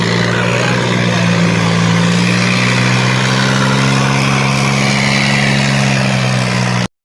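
A tractor engine drones steadily and loudly at a village trolley pulling contest in Punjab, holding a constant low hum with broad mechanical roar and no breaks until it cuts off abruptly.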